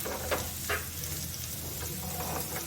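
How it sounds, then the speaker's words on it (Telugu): Veldt grape chutney mixture simmering gently in a pan on the stove, a steady soft sizzle with a few faint stirring scrapes, quiet and close. "ఇలా నీట్గా సిమ్లో పెట్టి మగ్గించుకోవాలి."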